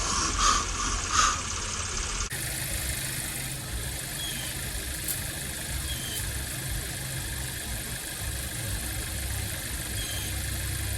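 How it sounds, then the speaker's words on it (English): A Chevrolet Camaro SS engine idles down after warm-up with a low, even rumble after a brief louder start, settling into a continuous hum with faint mechanical ticks. "the car went through its warm-up process and is now idling down"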